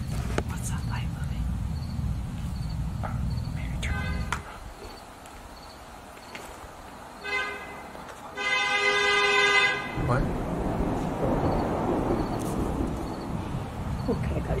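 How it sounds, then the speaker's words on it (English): A car horn sounds in short repeated toots in the middle, with a brief rapid series of honks, heard at a moderate distance under quiet talk. "Are they honking at us?"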